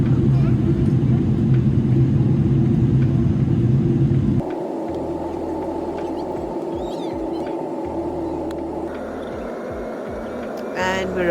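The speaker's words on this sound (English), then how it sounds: "We have descended quite a bit, and now we're just flying over some of the cities." Airliner cabin noise during the descent from Houston toward London Heathrow: a steady loud low rumble that drops in level partway through and settles into a smoother engine hum, with a brief chime-like tone near the end.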